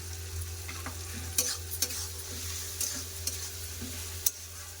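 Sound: frying tomatoes with ginger paste being stirred

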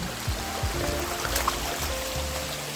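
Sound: waterfall on a hillside

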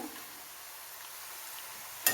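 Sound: ginger and mango frying in oil for pickle

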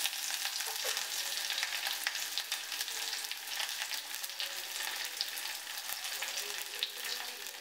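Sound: ginger, garlic, shallots, green chilies and curry leaves frying

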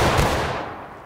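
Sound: rifle volley firing at a flag target

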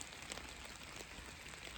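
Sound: light rain falling

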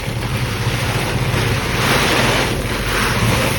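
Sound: wind blowing outdoors

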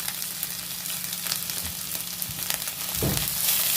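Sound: frying onions, green chillies and cashews in pan

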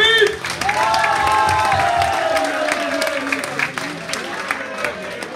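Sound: audience applause

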